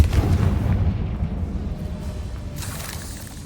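A Confringo fire spell from Hogwarts Legacy bursts into a heavy, booming blast that rolls out into a low rumbling decay over a few seconds, with a faint crackle near the end.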